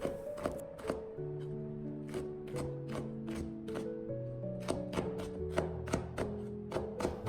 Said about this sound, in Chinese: 清洗干净，去掉辣椒蒂，然后对半切开。